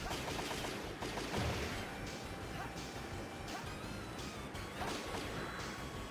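Rapid blaster fire from the Mega Man ZX Advent video game during a boss fight, a dense stream of repeated shots with crashing impacts and game effects, while a player talks over it.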